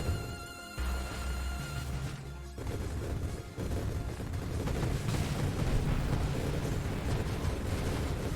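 Weapon explosions and blasts from the space shooter game Nova Drift, with a grenade build throwing off constant bursts: a dense, loud, continuous barrage of booms and crashes over a steady musical bed, no talking.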